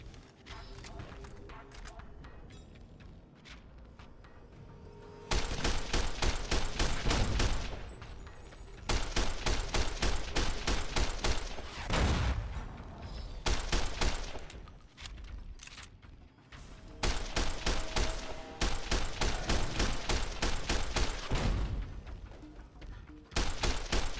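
Sustained gunfire in Fallout: New Vegas, long rapid bursts of shots in several stretches separated by brief quieter gaps, moderately loud and close, with occasional faint talk.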